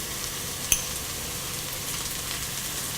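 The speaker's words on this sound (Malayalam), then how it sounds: "ഇഞ്ചി എന്നിവയിട്ട് നന്നായിട്ട് വഴറ്റിയെടുക്കുക." Onion, green chili, curry leaves, garlic and ginger sauté in a pan for beef peralan with a constant, even frying hiss and one sharp click early on.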